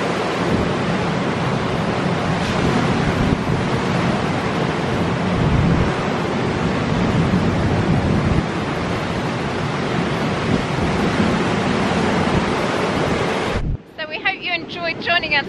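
Strong wind roars across the microphone along with rushing surf on the coast at Gunwalloe, Cornwall, loud and continuous, cutting out abruptly near the end to a quieter rustle.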